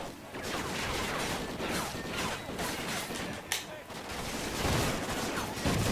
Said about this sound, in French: On va essayer de faire une petite séance de fusil à pompe.